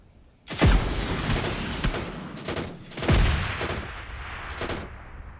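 Gunfire rings out in the mobile battle-royale game PUBG Mobile Lite: a few sharp, loud shots with booming echoes, then scattered fainter bursts of fire in the distance.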